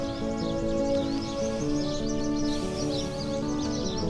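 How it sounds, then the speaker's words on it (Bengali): Birds chirp faintly and repeatedly in a green park area set in the desert of Dubai, light overlapping calls heard over a steady tonal hum. "ঠান্ডা বাতাস, পাখিদের কিচিরমিচির আওয়াজ"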